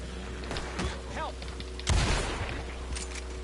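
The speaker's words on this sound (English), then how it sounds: "Heard gunshots and I missed it." Shots crack out in Red Dead Online, a Western video game, with a few scattered reports and a louder burst near the end, all over a steady game backdrop under faint voices.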